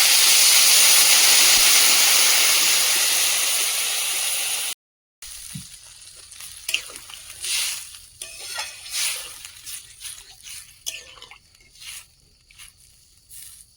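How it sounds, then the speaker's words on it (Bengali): Water poured onto sautéed curry in a hot pan sets off a loud, broad hiss of steam that fades over several seconds, then after a brief gap gives way to quieter bubbling and scattered stirring clinks. "তরকারিটা কষানো হয়ে গেছে, জল দিয়ে দেবো।"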